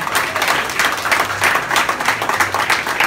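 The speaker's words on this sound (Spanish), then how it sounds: "un aplauso a ustedes mismos" Applause from a community gathering of Dominican leaders in New York City, a steady patter of clapping hands through the whole stretch, fairly close with some murmuring underneath.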